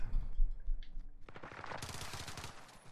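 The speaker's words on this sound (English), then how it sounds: "He's shooting at teammate." Gunfire in a shooter video game: low rumbling thumps give way to a rapid, loud volley of close shots firing in quick succession, with no voices over it.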